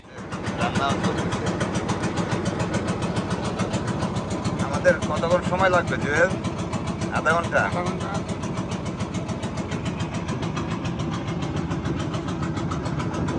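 A trawler boat engine drones steadily and close throughout, a continuous low rumbling throb, while people talk over it, on a canal in the Sundarbans.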